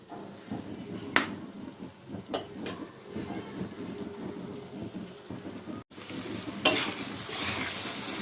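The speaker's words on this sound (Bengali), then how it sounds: "তো মশলাটুকু আমি ভালো করে কষিয়ে নেব।" Bengali-style spice paste frying and being stirred in a hot pan for an ilish and begun curry, a steady close sizzle with scraping spoon strokes and occasional louder stirs.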